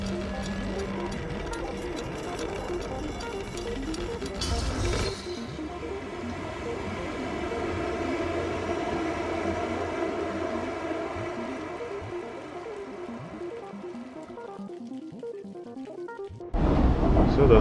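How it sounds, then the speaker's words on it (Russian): A metro train car starting to move in the video game Stray gives off a steady low rumble and hum. It rolls on for many seconds and ends in brief louder clanks. "Все, вагончик тронулся."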